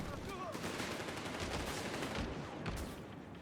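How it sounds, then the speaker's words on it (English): Heavy machine gun fire in the Company of Heroes 3 strategy game, a dense continuous rattle of rapid shots over battle noise, fairly loud and sustained. "Heavy machine gun pinning down those riflemen."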